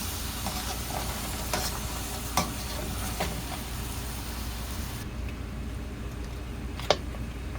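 A pork knuckle sizzles steadily in a frying pan for paksiw, with occasional sharp knocks and scrapes as it is turned, and the frying noise continues throughout.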